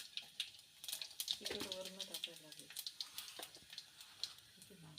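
Cumin and mustard seeds spluttering in hot oil with garlic, a tempering for a colocasia leaf curry: faint, irregular crackles and pops under a quiet voice talking.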